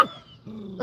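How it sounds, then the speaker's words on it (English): A small dog gives a couple of sharp, close barks separated by a brief pause, loud and clear with no talking over them. "You hear my little friend barking at me?"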